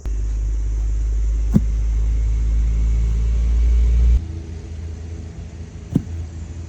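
A Dodge Stealth with a newly installed engine runs steadily at a low, rumbling idle in a shop, its sound close and fairly loud before dropping to a quieter level partway through, with two sharp knocks standing out.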